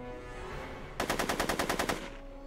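Gunfire in a Back to the Future video game: after a quiet background, a single rapid burst of about ten evenly spaced shots lasts roughly a second, then stops.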